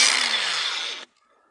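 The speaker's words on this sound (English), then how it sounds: "Now, I got this, the brushless grinder, paddle style." DeWalt brushless paddle-switch angle grinder running unloaded, a loud high whine for about a second that slowly drops in pitch before cutting off abruptly, followed by near silence.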